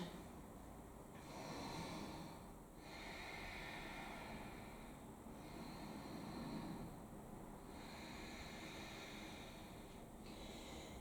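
Strong yoga breaths during a vinyasa session come as slow, long airy inhales and exhales, repeated several times in a steady rhythm, close and soft beneath a constant background hiss.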